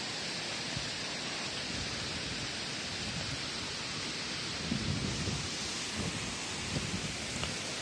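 Continuous rain hisses steadily with a broad rushing wash, likely stirred by wind, plus a few louder gusty bursts toward the end.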